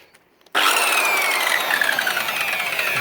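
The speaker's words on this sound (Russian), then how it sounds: "Попробую пропилить. Покажу, как пилит." A repaired STERN CS 185-C+ handheld circular saw switches on abruptly after a moment of quiet, then runs loud and steady at high speed, cutting with a sustained whine at close range.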